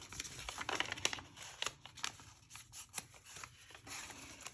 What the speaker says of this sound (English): I'm just trimming some down approximately to the width of this piece.